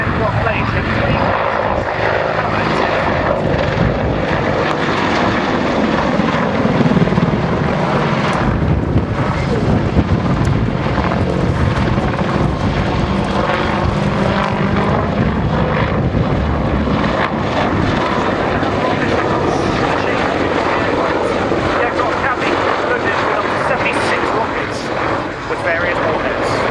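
An Apache helicopter flying a display manoeuvre at an airshow, its engine and rotor roaring steadily and loudly throughout with wind buffeting, while a commentator talks over it.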